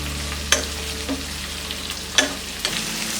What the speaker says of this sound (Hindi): मिक्स कर देते हैं और इसे मीडियम फ्लेम में फ्राई करेंगे